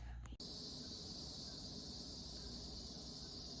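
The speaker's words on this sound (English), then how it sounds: "Do y'all hear the cicadas?" Insects at a beach at dusk sing in a steady, continuous high-pitched drone after a brief break in the sound at the start, sustained and unbroken.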